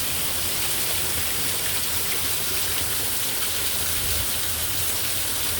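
A dense, steady roar of heavy rain pouring outdoors during a severe thunderstorm in Merritt Island, Florida, loud and unbroken throughout.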